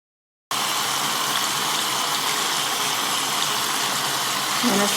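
Tap water runs steadily into a sink while blender brushes are rinsed under it, a continuous close hiss and rush that starts abruptly and holds at an even level.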